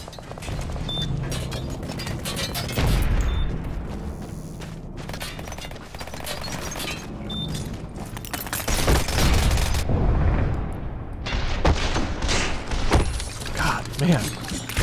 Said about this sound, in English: We're gonna try using the shotgun one more time.